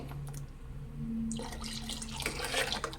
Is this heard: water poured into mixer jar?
yes